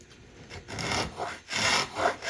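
A hand scraper pulls waste shavings off a wooden piece being shaped to a thumbnail profile, making about four close, rasping strokes in an uneven rhythm with brief pauses between them.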